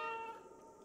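Cat meowing in the video game Stray, one short, clear tonal meow close by that trails off quickly.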